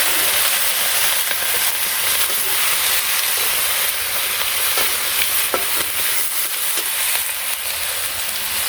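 Mixed vegetables added to a pan of fried potatoes in a Bangladeshi village kitchen sizzle loudly and steadily, with occasional stirring clinks.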